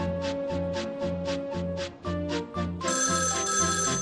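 A telephone in the Thomas & Friends: Trouble on the Tracks video game rings in a repeated electronic trill, steady and clear, with no talking.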